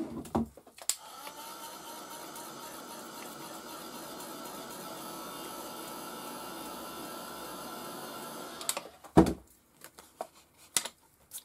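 A heat drying tool blows on craft ink for a background, a steady whirring fan-like drone held evenly for about eight seconds, then switched off, followed by a few light handling clicks.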